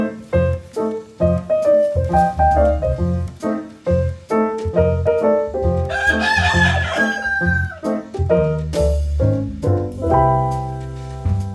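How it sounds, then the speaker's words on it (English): Rhode Island Red chickens cluck repeatedly and a rooster crows loudly partway through. The calls are close and rhythmic, with no talking. "So I ended up getting 7 Rhode Island Red chicks."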